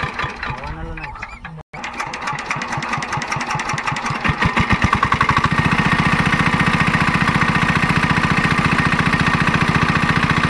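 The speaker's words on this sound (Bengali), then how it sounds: "মেশিন চলছে, এইবার আর কিছু শোনা যাবে না।" A water pump machine running beside a pond, drawing water out, with a steady, loud, rapid mechanical chugging that settles into an even drone after a brief cut near the start.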